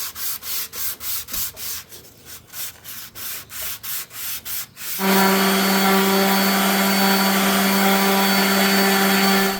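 Wood sanding on a desk name plate: rhythmic back-and-forth rubbing strokes for about five seconds, then a loud steady power tool drone with a strong hum takes over, close and without talk.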